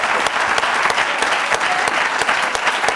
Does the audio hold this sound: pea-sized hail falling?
no